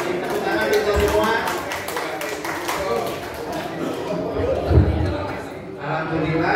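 Members at a cooperative's annual meeting in a hall clap in a scattered, uneven patter that rises and thins. People talk and murmur over the clapping throughout.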